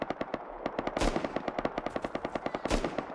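Automatic gunfire in the video game Rust, rapid bursts of evenly spaced shots with a couple of heavier blasts mixed in, loud and close and without talk.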